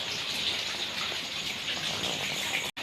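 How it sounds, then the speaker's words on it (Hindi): Heavy rain pours steadily in a dense, loud hiss, falling hard outdoors with no pause except a brief cut near the end. "ये देखें इतनी तेज़ बारिश, वाओ अल्लाह अल्लाह।"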